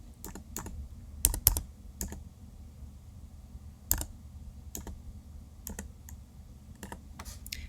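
Keys tapped on a computer keyboard while entering a library card number into an account form, a dozen or so sharp separate clicks in irregular bursts, close and fairly quiet over a low steady room hum.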